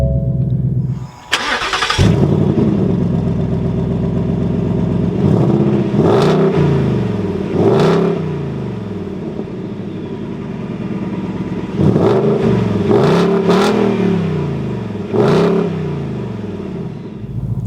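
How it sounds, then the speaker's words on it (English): A 2022 Ford Mustang GT Premium coupe fires up with a sharp crank and roar, then settles into a deep idle broken by several loud exhaust revs, close and without talk. "inside the GT, keeping my foot on the brake, we can go ahead and fire it up."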